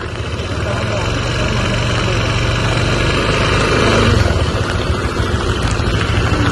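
A motorcycle engine idles steadily up close, a continuous rumbling drone that swells slightly midway, while voices are heard talking over it.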